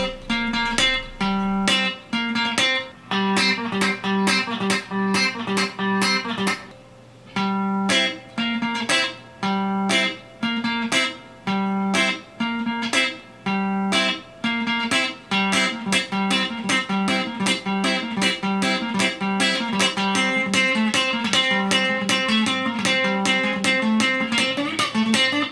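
Country guitar train beat lick on guitar, played up to speed: a steady, brisk run of evenly spaced picked notes, loud and close, continuing with only a brief pause near the start and no talking.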